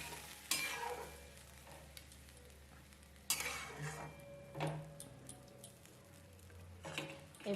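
Pieces of lote fish are dropped into frying spice paste in a pan, giving a low sizzle broken by several sharp clinks and knocks of a utensil against the pan.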